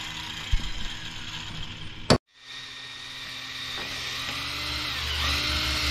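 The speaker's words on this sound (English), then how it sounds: "We just finished taking a bolt off of the tongue." A short ratcheting burst from a wrench removing a bolt from a horse wagon tongue, then a sharp clack and a steady mechanical hum that slowly grows louder; no voices.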